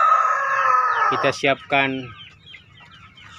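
Young roosters crowing and clucking close by: a strained, drawn-out crow followed by several short, sharp clucks, with someone speaking faintly in between and afterward.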